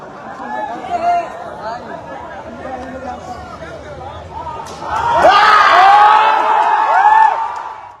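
Crowd celebrating an election win on a campus in Siwan, a noisy chatter of many voices that swells halfway through into louder cheering and whooping, with shouts rising over the babble.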